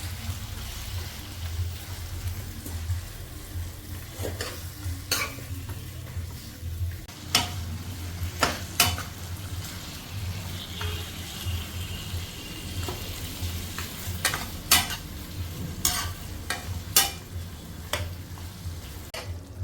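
Goat meat and potatoes sizzle steadily in a pan while a utensil scrapes and knocks against it in irregular strokes, close by, with a low hum underneath.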